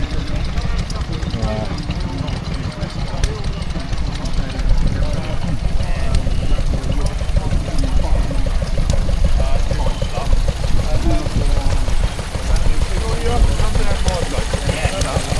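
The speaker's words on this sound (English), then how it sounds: "this is a Lister D pump, and it looks like it's running a bathroom setup" Lister D stationary engine driving a water pump at an agricultural show, a continuous close chugging run with splashing water mixed in and faint crowd noise behind.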